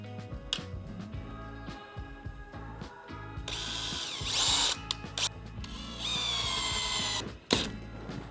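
A power drill drives screws through strap hinges into wooden easel legs, with several bursts of whirring and ratcheting between quieter handling clatter, close and fairly loud.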